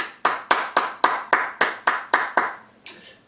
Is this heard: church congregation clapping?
yes